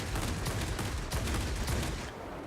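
Aircraft machine guns fire in rapid bursts during a dogfight in the World of Warplanes video game, a loud, continuous rattle over engine roar that cuts off near the end.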